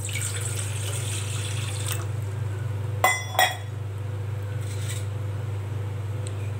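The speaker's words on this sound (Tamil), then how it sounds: "ஒரு 400 மில்லி அளவுக்கு நம்ம தண்ணி ஊற்றிக்கலாம்." About 400 ml of water goes into a pot on the stove for curry leaf rice porridge: a short running-water stream over a constant low hum, then two quick metallic clinks midway, with no talk.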